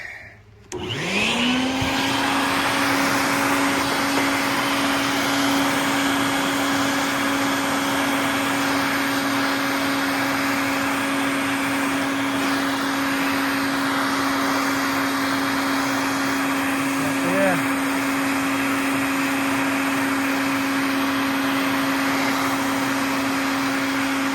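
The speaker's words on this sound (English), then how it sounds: "Got a vacuum." A vacuum cleaner switches on outdoors near a yellowjacket nest and keeps running with a loud, steady whirring drone, close by, with no speech over it.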